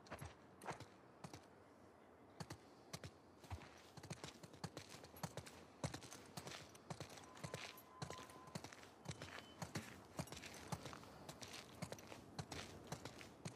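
Horse hooves clop in a steady walking rhythm, fairly close, with faint creaks and a soft ambient bed underneath and no talking, in the video game The Last of Us Part II.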